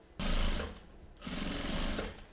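A sewing machine stitches a safety seam along the very edge of a chain-strap handbag ring piece in two close, loud bursts: a short run, a brief pause, then a longer run.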